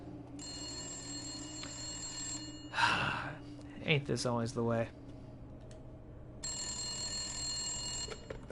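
A telephone rings in the horror video game Resident Evil Village in two long stretches of steady electronic ringing. Someone speaks briefly in the gap between them.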